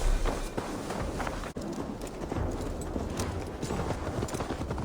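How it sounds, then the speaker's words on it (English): Rapid horse hooves clip-clop steadily in the video game Assassin's Creed Valhalla over a dense background, a quick rhythmic gait heard up close without speech. "Now to deliver Magni his horse."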